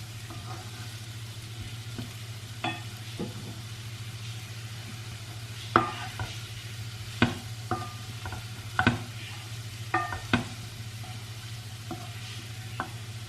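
Potatoes stirred with a utensil in a pan of melting butter for a Turkish egg-and-potato breakfast dish, heard as a quiet low hum with scattered close scrapes and clinks, mostly clustered in the second half, no voices.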